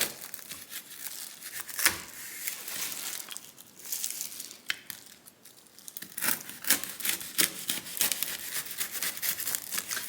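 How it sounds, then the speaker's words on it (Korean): Crisp crunching and crackling as a knife cuts through a crispy puffed rice bar, with bursts of brittle snapping, close up and without talk. "자, 바삭바삭 소리 나는 거 들리시죠?"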